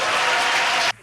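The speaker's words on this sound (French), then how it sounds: "Des applaudissements nourris" Sustained, dense applause from a crowd at a doctoral degree ceremony in Benin, steady and loud before it cuts off abruptly near the end.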